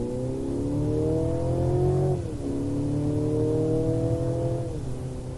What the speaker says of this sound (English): That was the sport mode for that acceleration.